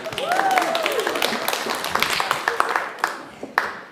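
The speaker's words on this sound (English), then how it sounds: "you can clap at that" An audience at a Christmas show claps in a steady patter of many hands, with a few louder individual claps standing out and a voice briefly heard over the clapping.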